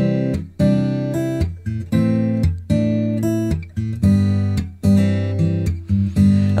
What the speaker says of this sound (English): I'm going to be applying it to this acoustic guitar